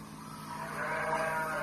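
A sheep bleats once, a fairly close, drawn-out call that swells in the second half and holds to the end over a quiet background.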